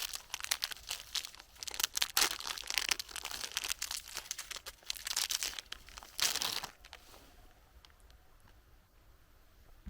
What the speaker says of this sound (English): Inside this pack there is another pack. Foil wrapped, so I expect this to be super fresh.